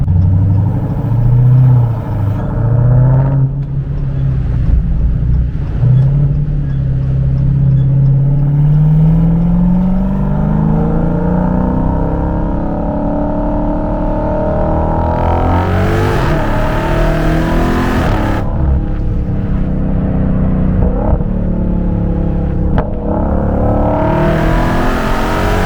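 A 2023 Dodge Hellcat Jailbreak with 717 horsepower roars loudly from the cabin as it accelerates hard, revs climbing and dropping through shifts, with a brief tire-spinning surge in the middle and no talk.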